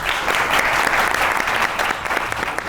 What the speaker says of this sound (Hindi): मौजम साहब के लिए बहुत सी ताली बजाइए।